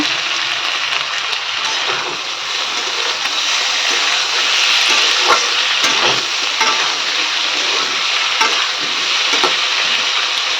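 Prawns fry with boiled Chandramukhi potatoes in a pan, giving a loud, close, continuous sizzle with crackling pops and occasional stirring scrapes throughout.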